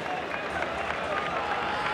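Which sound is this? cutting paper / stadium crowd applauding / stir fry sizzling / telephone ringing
stadium crowd applauding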